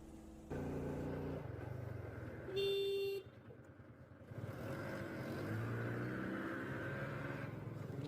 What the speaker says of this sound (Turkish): Niye korna şey çaldı?